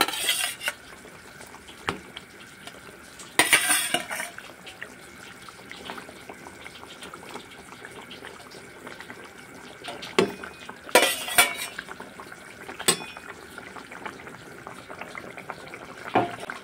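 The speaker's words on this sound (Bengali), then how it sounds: "এখন আমি ভেজে রাখা মাছগুলোকে দিয়ে দেব।" Fried rohu fish going into a thin potato curry and being stirred, with metal utensils clanking against the pot in a few sharp bursts over a low background hum.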